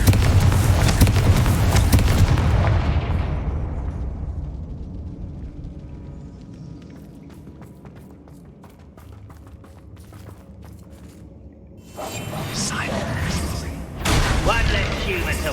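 Confringo, an explosive fire spell in Hogwarts Legacy, goes off with a loud, broad blast that fades over a few seconds, with a second burst of crashing noise near the end. Talk runs underneath.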